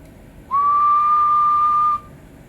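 A steady, clear whistled tone into a radio microphone holds for about a second and a half at one pitch, then cuts off, over faint background hiss; a Stryker 447 CB radio with a 2879C amplifier.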